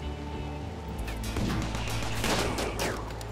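Colonists shoot at a centipede in the colony game RimWorld: a rapid barrage of overlapping gunshots and blaster fire with sharp cracks and impacts, loud and continuous, over a low steady hum.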